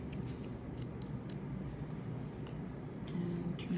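Small scissors snip around the blocks on an ATV back window, a series of sharp, faint clicking cuts at an irregular pace over a low background rumble.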